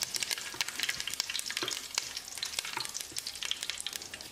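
Steady crackling sizzle of spices and a little curry leaf frying in hot oil for chicken curry, close and continuous with rapid popping bursts throughout.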